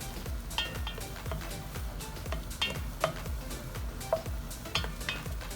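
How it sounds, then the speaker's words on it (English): Gluten-free vegan rasta pasta being stirred in a cooking pot, a quiet series of scraping strokes and light clinks of the utensil against the pot, repeating at a steady pace under a faint sizzle. "You're just gonna stir."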